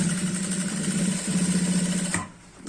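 A sewing machine stitching the belt band of a pair of pants hums at a steady, even whir for about two seconds, then stops abruptly.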